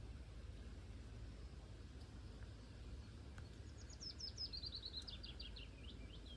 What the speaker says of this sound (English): The bird sings.